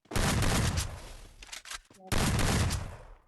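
Rapid, loud automatic gunfire from Garena Free Fire in a ranked clash squad match, dense bursts that pause briefly and then resume at full intensity.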